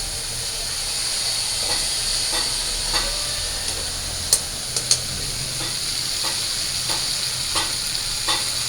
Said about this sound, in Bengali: এবার আমি জল দিয়ে দিব ঝোল দেওয়ার জন্য।